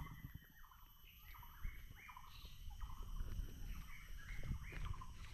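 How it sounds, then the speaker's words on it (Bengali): Birds chirp and call in a hill forest on Chandranath hill near Sitakunda, Chittagong: short, repeated high tweets that come steadily over a soft rustling background. "পাখির ডাক শুধু শুনতে পাচ্ছি, পাখির ডাক।"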